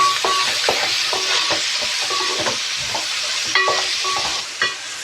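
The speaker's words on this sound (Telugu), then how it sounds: "ఇప్పుడు మనం ఫ్రై చేసుకున్న మష్రూమ్ ఉన్నాయి కదా అవి కూడా యాడ్ చేసేసుకుంటున్నాను." Mushrooms frying with mint in a pan, a continuous loud sizzle with rhythmic scraping stirs of a spatula throughout, close up.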